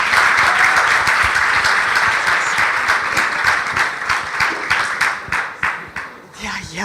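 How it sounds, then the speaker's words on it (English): Audience applause for a speaker at the Spark.me 2013 conference, loud, dense clapping that carries on steadily and then thins into scattered individual claps toward the end. "please give her a huge round of applause."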